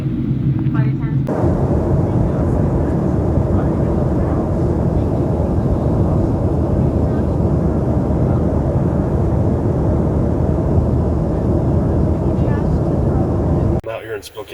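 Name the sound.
airplane cabin during landing approach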